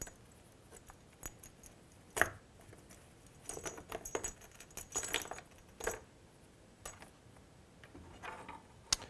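Small metal thumb screws clink and jingle inside a little toolkit pouch for a Carvey carving machine, quiet, close, irregular rattles and taps with soft rustling between them.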